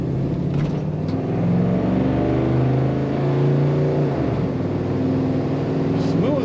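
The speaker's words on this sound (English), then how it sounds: "Nice rumble to this car, kind of a glass pack sound when you get on a certain RPM." A 1964 Chevrolet Impala SS with a glass pack exhaust rumbles steadily at idle and light revs, a loud continuous low drone that swells slightly mid-way, close to the car.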